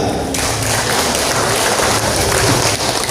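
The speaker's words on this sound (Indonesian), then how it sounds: "Tepuk tangan." Sustained, loud applause from members at a market cooperative's annual meeting in Sumedang, a continuous wash of many hands clapping close by.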